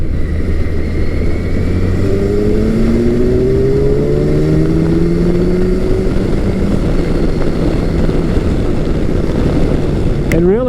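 A 1000cc motorcycle engine drones loudly while riding, rising and falling in pitch as it revs through gears, with constant wind rush and a brief voice at the end.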